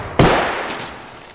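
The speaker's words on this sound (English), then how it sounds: "Opening fire" A single sharp gunshot in the Apex Legends video game, loud and close, cracks suddenly and then trails off in a fading decay.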